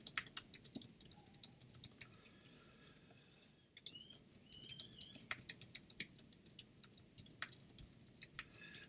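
Fingers type on a computer keyboard in quick, irregular bursts of close clicks, pausing briefly midway before resuming at a steady pace, with no voices.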